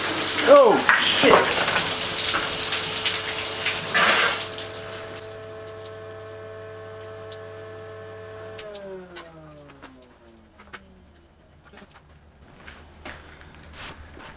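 Water spraying and hissing from a popped hose clamp on a TIG welder's water cooler, loud at first beneath a steady pump hum, then the spray cuts out while the motor tone winds down and a voice speaks briefly.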